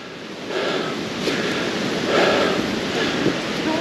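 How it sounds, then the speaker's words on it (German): Strong wind roars and buffets the microphone continuously, with gusts swelling and fading in a loud rushing noise. "Das ist teilweise richtig heftiger Wind."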